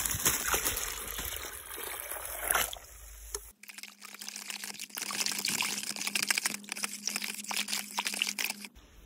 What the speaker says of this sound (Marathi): हे आता आपण 13-0-45 मिक्स करून घेतोय पाण्यामध्ये.